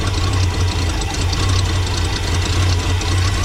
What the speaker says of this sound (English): We got her to idle. I don't know if you can hear me over the motor. Definitely got an exhaust leak.